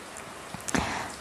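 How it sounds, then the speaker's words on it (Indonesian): Steady rain falling from a dark sky in cool weather, a soft continuous hiss with a few brief drip-like taps near the middle, quiet and alone. "Finally, I can hear the sounds of rain fall from the sky."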